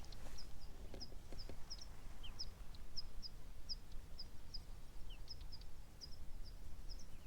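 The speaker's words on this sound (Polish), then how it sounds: "i lecą ptaki" Small birds call repeatedly as they fly past in open countryside, short high chirps spaced in an irregular series, faint and distant over a low wind-like background rumble.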